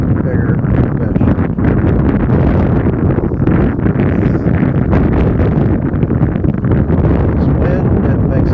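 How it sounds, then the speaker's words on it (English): Strong wind buffets the microphone outdoors on a fishing trip, a loud, constant rumbling roar that fills the whole clip and nearly buries everything else. "This wind, it makes it a lot harder to put it on the fish though"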